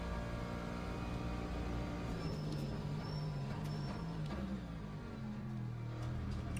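Continuous onboard drone of a race car engine in Le Mans Ultimate, steady and loud with faint high whines, no talking.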